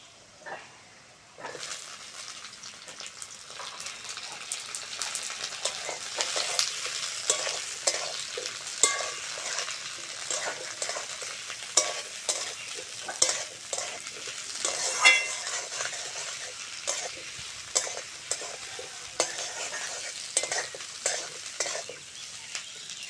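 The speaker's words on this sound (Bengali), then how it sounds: "উচ্ছেটা ভালো করে ভেজে নিতে হবে, না হলে তরকারিটা তেতো হয়ে যাবে।" Sliced bitter gourd sizzles in hot oil in a pan for a fish curry, with repeated scraping and stirring strokes from a spatula rising over a steady frying hiss, close and clear.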